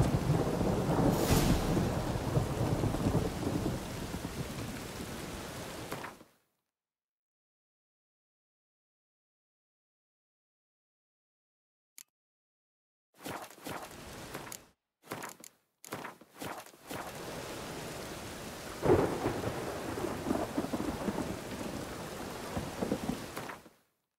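Steady rain with rolling thunder in The Witcher 3 game world, a broad wash of storm noise that cuts out to silence midway, then returns in choppy bursts before settling back into continuous downpour.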